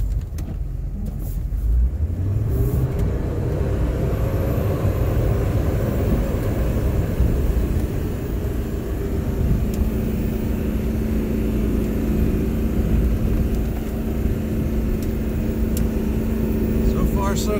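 A GMC Topkick 4500 4x4 diesel truck in first gear and four-wheel-drive low climbs a hill while plowing, its engine droning loud and steady with rising pitch as it revs, with a person talking over it.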